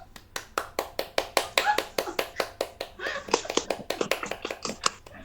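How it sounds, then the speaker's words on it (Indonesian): Classroom applause for a student during a peer-teaching lesson: a small group of children clap in a quick, fairly regular rhythm of distinct claps, close and clear, with faint children's voices underneath. "coba kita kasih tepuk tangan untuk teman kita."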